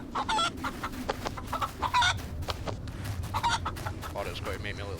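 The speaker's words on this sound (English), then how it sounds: "I normally don't bother with chickens, but I'm going to kill this one." A chicken in the winter survival game DayZ, set in Chernarus, clucks in short irregular bursts nearby, with low background noise under the calls.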